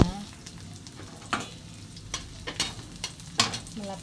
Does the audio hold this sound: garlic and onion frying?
yes